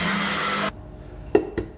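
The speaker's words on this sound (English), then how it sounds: "Spices ready. Grind" An electric grinder grinding spices for a curry: a loud, dense whirring burst that stops abruptly, followed by a few brief knocks and taps in quiet.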